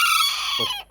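Hen near laying age making a loud close clucking call, a single brief harmonic burst that fades out at the end, with no talk.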